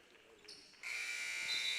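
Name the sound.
basketball game buzzer at halftime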